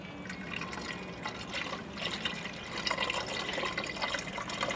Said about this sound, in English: beginning pouring things procedure now. Coolant coming in.